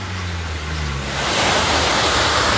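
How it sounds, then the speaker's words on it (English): A swollen high alpine runoff river in Switzerland, nearly overflowing its banks, rushes in a loud steady roar that swells after a low hum at the start, with no voices. "here's a river that's almost overflowing its banks"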